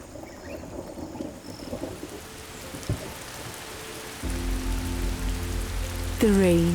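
A thunderstorm on the Masai Mara savannah brings a thunder crack and steady heavy rain hissing on the ground, growing denser as tonal music swells near the end.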